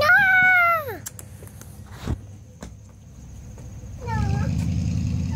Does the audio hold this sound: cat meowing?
yes